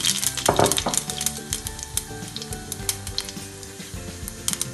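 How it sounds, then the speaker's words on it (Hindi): Cumin seeds and black peppercorns sizzling in hot oil in a pan, a steady loud crackle with a sharp burst early on, continuing alone without talk. "अब इसमें आप ये डाल दें दोनों चीज़ें, ज़ीरा और गोल मिर्च।"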